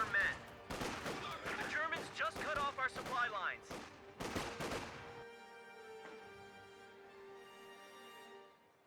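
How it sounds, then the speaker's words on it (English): Machine gun and mixed battle gunfire in Company of Heroes 2, a dense stretch of rapid overlapping shots and bursts that stops abruptly, leaving a faint hum and tonal drone. "MG42 inside the garrison."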